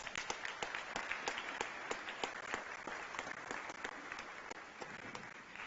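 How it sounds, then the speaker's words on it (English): Audience applause at a roundtable session of the UN Habitat Assembly, a steady, faint wash of many hands clapping with distinct individual claps, continuing without pause and without talk over it. "Can we give them a round of applause?"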